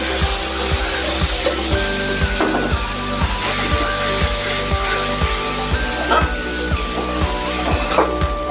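Water-soaked spice paste frying in a pan for a bata fish dish, a steady sizzling hiss partly masked by loud rhythmic background music.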